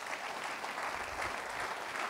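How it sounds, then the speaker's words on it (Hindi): A crowd at a company anniversary program claps together in a dense, even wash of applause, steady and moderately distant throughout. "मैं चाहूंगा अनमोल सर के लिए जोरदार तालीम"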